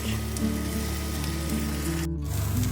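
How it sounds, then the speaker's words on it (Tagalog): Red onions frying in butter in a pan, a steady close sizzle running throughout with a low tonal hum beneath and no talk. "lagyan na natin itong sibuyas uh, tutuin lang natin to hanggang mag-brown na at mag-tender mag na siya"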